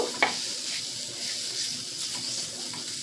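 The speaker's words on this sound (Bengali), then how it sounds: "আবারও একটু ভালো করে নাড়াচাড়া করে নেব।" Pumpkin bori and onion stalk curry being stirred in a pan, a soft steady sizzle with a brief spoon clink near the start, close and even throughout with no talk.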